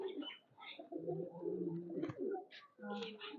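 Pigeons cooing close by, a pair with their young kept in a loft, soft low rolling coos repeating over about three seconds with higher chirps at times and someone talking through much of it.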